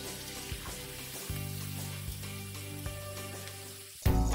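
Sun-dried cassava crisps frying in oil, a steady crackling sizzle with a few scraping stirs, ending in a sudden louder burst near the end.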